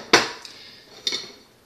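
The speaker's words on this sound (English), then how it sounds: "Stir it all up together." A utensil clacks sharply against a bowl while avocado pasta is stirred, giving one bright knock followed by a softer second clink about a second later, close and clear with no talk.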